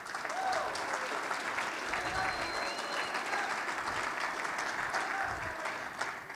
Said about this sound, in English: Can you guys just give some applause?